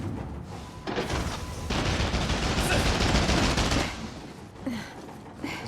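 Enemy gunners open fire in Nioh 3, a dense burst of gunshots forming a loud rattling fusillade that builds and holds for a couple of seconds before tapering into scattered cracks.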